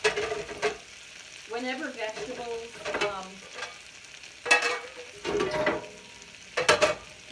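Shredded cabbage sautéing in a pan for moo shu shrimp, a soft sizzle with occasional stirring scrapes running beneath a woman's intermittent speech.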